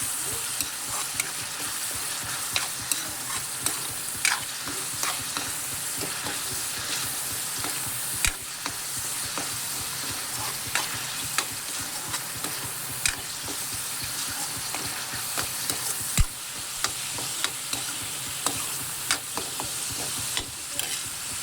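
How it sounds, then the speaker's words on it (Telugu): Masala frying in a pan while being stirred until golden: continuous close sizzling and crackle with frequent scraping spatula clicks and taps, steady throughout with no voices. "పచ్చివాసన పోయి గోల్డెన్ కలర్లో వచ్చినంత వరకు బాగా వేయించుకోవాలండి."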